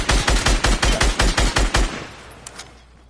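Automatic gunfire in a building shooter game, about a dozen evenly spaced loud shots in a quick rhythm that stop abruptly, followed by a couple of faint clicks and fading quiet.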